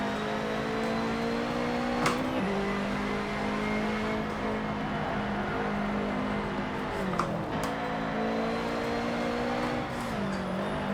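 Subaru flat-four engine racing in Forza Motorsport 7, a sustained droning exhaust note that rises through the revs and drops at each gear change, loud and continuous without speech.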